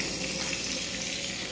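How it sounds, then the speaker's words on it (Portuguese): Beef steak sizzles steadily in a frying pan, a dense, continuous close-up crackle and hiss with no talking. "também estou fritando aqui uma bistequinha, né? Uma bisteca de boi"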